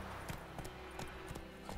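Hooves clip-clop at a steady galloping rhythm as a horse runs in The Witcher video game, faint beneath a low background hum.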